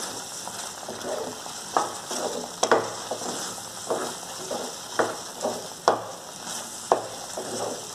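Semolina upma frying in a pan over high heat, a steady close sizzle broken by regular scraping knocks from a spoon stirring roughly once a second, with no talking.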